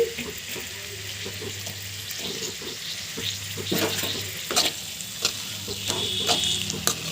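Eggs and sliced onions cook in a pan, giving a steady crackling sizzle broken by intermittent scrapes and clinks of stirring.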